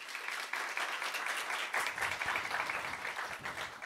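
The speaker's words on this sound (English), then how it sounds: "Let's give a round of applause to him." Audience applause at a library book reading event, a steady round of clapping from a seated crowd that holds at an even level throughout.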